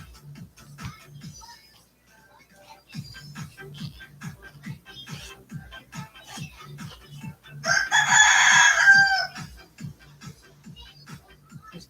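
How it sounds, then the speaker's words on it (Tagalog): A rooster crows once, loud and shrill for a couple of seconds, over a steady rhythmic low thumping that continues throughout. "Diyos ko, ingay ng manok ko."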